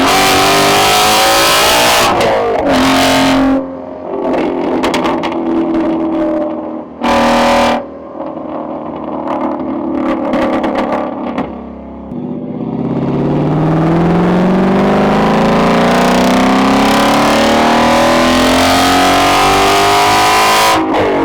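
A Ford Shelby GT350 V8 revs hard and loud, with sharp throttle blips and brief lifts, then settles into a long rising acceleration pull. Up close, raw and distorted, with no talking.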